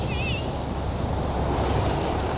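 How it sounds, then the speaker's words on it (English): Stormy sea waves off Brighton Pier surge in a continuous, loud roar of surf and wind with no clear breaks, dense and steady throughout. "Vicky and Lisa fought to survive in the stormy seas."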